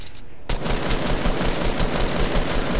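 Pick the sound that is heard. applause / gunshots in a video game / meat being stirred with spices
gunshots in a video game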